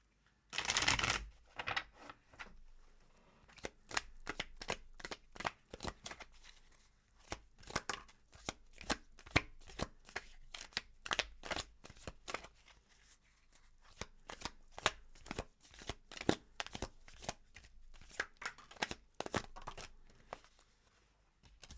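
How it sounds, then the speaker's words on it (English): Crisp, rapid riffling of a tarot card deck, repeated in bursts of sharp clicks and flutters for about twenty seconds, close and without talk. "What's going on with my shuffling with this reading?"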